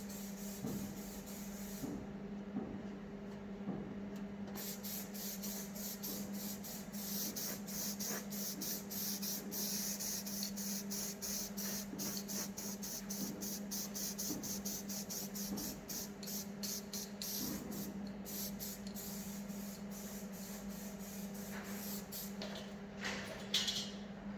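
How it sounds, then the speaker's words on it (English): Close, continuous hiss of an aerosol can spraying black paint on an Opel Manta undergoing restoration, pulsing in short repeated bursts for the whole stretch, with no talking. "I'm just going to spray some black in here as well"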